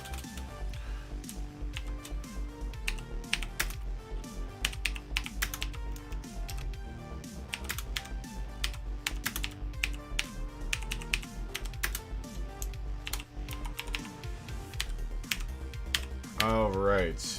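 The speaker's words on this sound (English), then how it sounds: "Sorry, I'm typing with one hand." Someone types with one hand on a computer keyboard, with rapid, uneven clusters of clicky keystrokes running close and steady throughout while a person talks intermittently over them.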